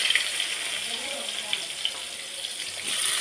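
Cut onions hit hot oil in a kadai, giving a steady, bright sizzle and hiss of frying close by that holds for several seconds with faint bubbling crackle.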